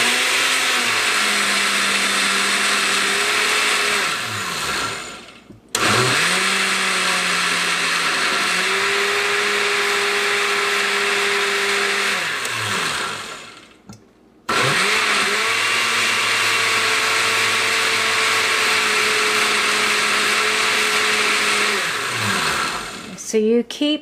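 A loud blender runs steadily on kimchi ingredients for Korean kimchee, with whining motor tones shifting as the load changes, cutting out briefly twice between pulses, and then restarting, with no talk over it.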